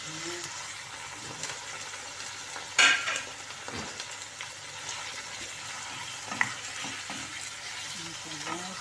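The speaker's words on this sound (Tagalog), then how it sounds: "ilagay natin itong chicken" Chicken frying in a pan for a chicken sotanghon dish, a soft steady sizzle broken by a few sharp clinks and stirring scrapes, heard alone without talk.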